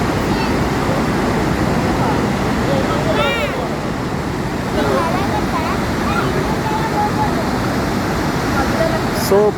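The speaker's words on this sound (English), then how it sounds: "The waterfall on river Kaveri" Gaganachukki Waterfalls on the Kaveri river at Shivanasamudra roar as a dense, steady rush of water, with a person's voice and faint chatter heard over the constant din.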